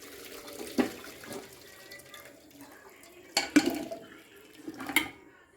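Water from boiled cauliflower drains through a strainer, with faint pouring and trickling broken by several louder splashes and clatters of metal kitchenware, heard close in a quiet kitchen.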